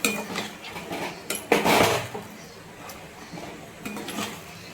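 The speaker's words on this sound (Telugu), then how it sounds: "ఇప్పుడు మొత్తం తిప్పుకుందామండి." A spoon stirring curry with tamarind water in a metal pot, scraping and clinking against the sides with a louder clatter midway and lighter knocks after, close and without speech.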